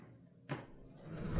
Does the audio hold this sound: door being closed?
yes